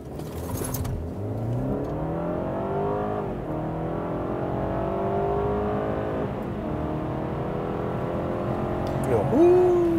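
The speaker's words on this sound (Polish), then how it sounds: "zmierz go w takim razie teraz w trybie sportowym" BMW 3 Series F30 plug-in hybrid accelerating hard in sport mode, the drivetrain whine climbing steadily in pitch over a constant road roar, heard from inside the cabin with no break across the pull.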